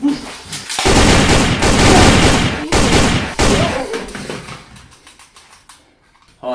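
Loud, sustained bursts of rapid gunfire in a psychological horror game, harsh and close, broken by brief pauses before fading into quieter rattling toward the end.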